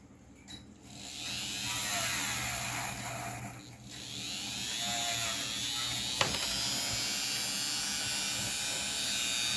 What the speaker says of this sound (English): Cleaning off the nut threads now.